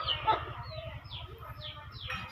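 A brooding hen clucks in soft, low repeated pulses close by, with a few higher chirps from fowl mixed in, and no talking.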